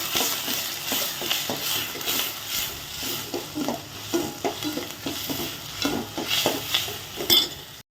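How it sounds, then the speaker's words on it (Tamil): Tomatoes and onions sautéing in a pan for a milk-based curry, a steady loud sizzle with rhythmic scraping and stirring strokes throughout, no voices. "தக்காளி பழமும் வெங்காயமும் வதங்குறதுக்காக"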